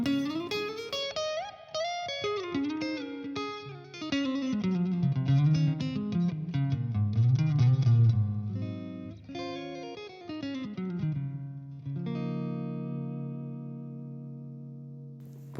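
An electric guitar plays through the clean channel of a Blackstar HT-20R MKII amp with reverb, running through a steady, flowing melodic passage of single notes and chords that ends on a ringing, sustained chord.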